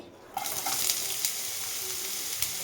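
Chopped onions hit hot oil in a kadai with a sudden loud sizzle, then keep frying in a steady, crackling hiss with a few sharp pops, close by and with no talk.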